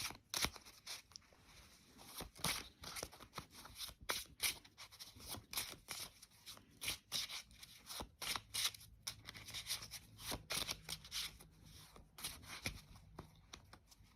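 A deck of playing cards being shuffled by hand, heard as close, quiet bursts of rapid riffling and flicking in irregular runs throughout, with no voices.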